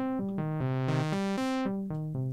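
Synth notes run through Omnisphere's UVI low-pass filter at normal resonance: a steady sequence of short, rich harmonic notes stepping between pitches, with the brightness sweeping up and down over them.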